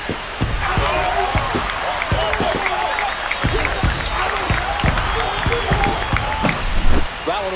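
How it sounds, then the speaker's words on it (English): A spring training baseball crowd at a Seattle Mariners versus San Diego Padres game roars and cheers after a home run, a dense, sustained wash of applause and shouting with a commentator talking over it. "This crowd is on fire right now. They're going nuts thanks to that home run."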